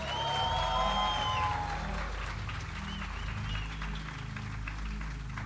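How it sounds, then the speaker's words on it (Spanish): A church congregation applauds and cheers with a mix of clapping, shouts and crowd noise, some tones rising above at the start, moderately distant and fairly quiet overall. "Dale un aplauso a Jesús fuerte."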